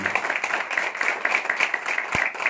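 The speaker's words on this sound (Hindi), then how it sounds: "जोरदार ताली होनी चाहिए आज के आए हुए मेहमानों के लिए।" An audience at a welcome event claps for arriving guests, a dense, steady burst of applause from many hands, fairly close.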